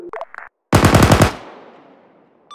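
A close, loud burst of machine gun fire in a multiplayer military shooter game, roughly a dozen rapid shots fired in about half a second, then a long fading echo, preceded by brief muffled radio chatter.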